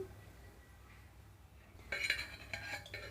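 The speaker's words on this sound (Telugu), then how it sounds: "ఇక్కడైతే స్టవ్ ఆన్ చేసి పాన్ పెట్టుకుంటున్నాను" A pan is set on a stove, and light metallic clinks and knocks of cookware follow after a quiet start, close by and moderately loud.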